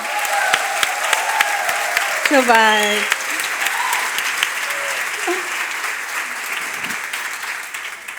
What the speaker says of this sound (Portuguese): Uma enorme salva de palmas para esta organização